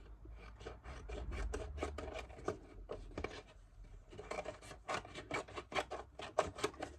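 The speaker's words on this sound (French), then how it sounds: "je découpe un petit peu ma chute sur le tour, comme ça." Close, quiet rasping cuts of scissors trimming a paper offcut around the edge of a handmade card, coming in quick irregular strokes with brief pauses and no talking.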